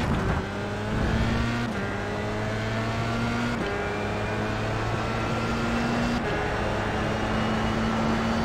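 Race cars at the Red Bull Ring circuit, engines droning loudly with steady high-pitched tones that shift pitch several times as cars pass and change gear, a continuous mechanical roar with no talk.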